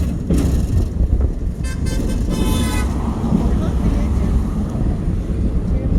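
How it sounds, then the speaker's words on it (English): Car horns honk at a passing open caboose train at the Galveston Train Museum, sounding as a few short toots partway through over steady wind and road noise. "people honking at us"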